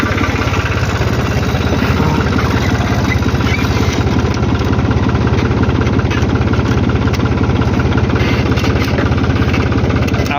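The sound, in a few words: tractor engine idling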